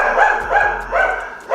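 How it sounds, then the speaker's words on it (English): Several barks and yips from the speaker's own dogs, recurring in bursts through a steady indoor background with no talk, moderately loud and fairly close. "dogs just not quiet down sometimes"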